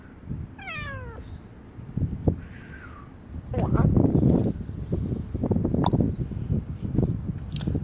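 A cat meows close by, a couple of short rising-and-falling cries, followed by people talking.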